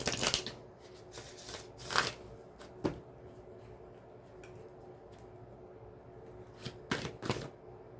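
A Psychic Tarot Oracle deck is shuffled in several quick riffling bursts, close and fairly loud, with quiet pauses between them.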